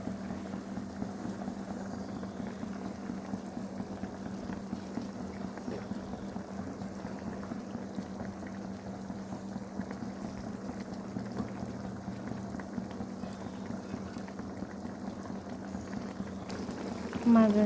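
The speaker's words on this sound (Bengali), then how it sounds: "ঝোলটা প্রায় ফুটে উঠেছে" Fish curry gravy bubbling on the stove, a low continuous simmer with a soft steady rumble and faint burbling, fairly quiet, with a brief louder bump at the very end.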